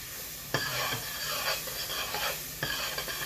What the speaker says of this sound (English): Let that saute a little bit.